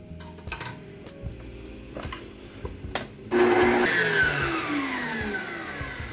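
An electric mixer starts up after a few clicks and knocks, then runs with a loud, steady whir while beating a condensed milk cake filling.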